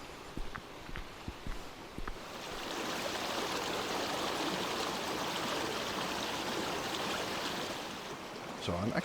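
Water rushing steadily along a small river in freezing winter conditions in Belgium, a loud continuous broadband wash that swells after a couple of seconds, with a few brief knocks and thumps near the start.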